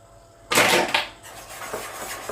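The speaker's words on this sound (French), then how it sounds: "Moi je tamise levure pour qu'il n'y ait pas de grains." Baking powder is shaken through a sieve for an apple cake: a sudden close rattling burst of a little under a second, then a softer, lighter shuffling that trails on.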